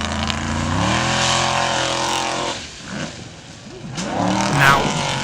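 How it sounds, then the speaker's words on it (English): Formula Offroad buggy engine revving hard on a challenging course in Iceland, loud and close with rising and falling pitch, easing off midway before surging again. "Next in this challenging course is Aron Ingi in the Zombie"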